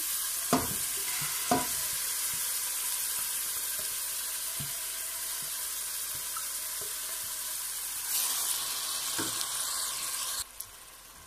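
Chopped onion and paprika frying in oil in a pan for a seafood okra sauce, a steady close sizzle lasting throughout with a few sharp clicks and utensil knocks, no voices.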